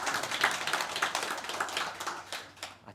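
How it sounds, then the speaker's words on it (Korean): A church congregation at a Sunday worship service claps together in a brisk, fairly close patter of many hands that fades slightly toward the end, with no voices. "우리 여성교회도 좀 박수를 보내주시기 바랍니다."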